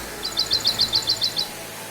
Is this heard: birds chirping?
yes